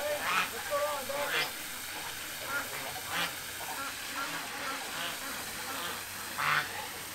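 Ducks give scattered quacks, a few sharp calls standing out over a steady background hum, with a voice speaking now and then.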